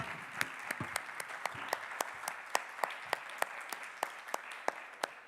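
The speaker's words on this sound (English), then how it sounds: "I will invite you to give a warm round of applause for our" An audience at a global forum plenary session applauds the panelists, a steady wash of many hands clapping with distinct sharp claps ringing out at regular intervals, moderately loud throughout.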